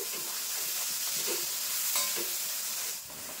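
Ground spices with salt and a splash of water sauté in a pan for a Bengali puti fish and brinjal curry, giving a continuous close sizzle with soft stirring scrapes and no talk.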